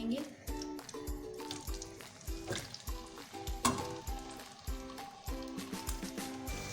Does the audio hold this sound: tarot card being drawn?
no